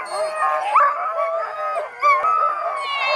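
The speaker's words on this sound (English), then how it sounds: "here's our last two dogs. These are two young pups." Young sled-dog pups at a dogsledding outfit in Haliburton, Canada howl and yip in excited, wavering cries, several dogs overlapping continuously at close range.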